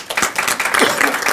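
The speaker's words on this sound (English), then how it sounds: "if we can give him a round of applause" A crowd at a county government leadership announcement breaks into applause, a short burst of steady clapping with some voices mixed in.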